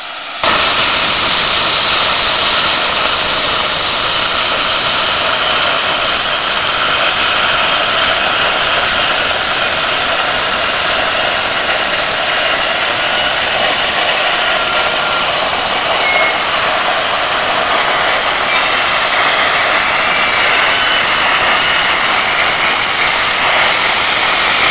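A plasma cutter slices through 3mm steel plate at 30 amps and 40 PSI, producing a loud, continuous roaring hiss of rushing air and arc that holds steady, close up and alone, for the whole stretch.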